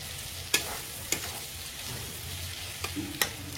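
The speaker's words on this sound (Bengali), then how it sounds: "এবার চিংড়ি মাছটা দিয়ে এরকম করে নিচ্ছে, একটু কষে নিচ্ছে" Shrimp frying in a pan, a low steady sizzle broken by a handful of sharp spatula clinks and scrapes spaced irregularly, fairly quiet and close, with no talking.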